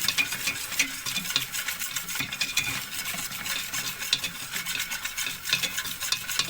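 Flour, three or four spoonfuls, is stirred and roasted in a glass of hot oil for tomato soup, giving a steady close scraping and frying hiss that runs unbroken throughout.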